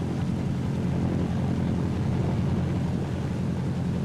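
Steady, loud roar of a Martin B-26 Marauder twin-engine bomber's engine during a ground run-up and propeller check, a dense continuous drone without breaks.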